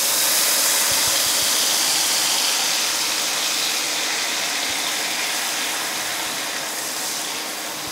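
Spice paste hitting a hot frying pan for Mughlai-style egg rezala, a loud, steady broadband hiss of sizzling that holds evenly throughout and fades slightly toward the end, with no talking.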